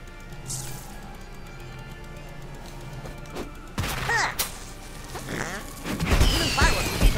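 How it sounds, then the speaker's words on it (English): Fireworks crackle and burst in the South Park: The Fractured But Whole video game. Scattered pops come first, then a louder cluster of crashing explosions near the end. "Oh, sweet fireworks!"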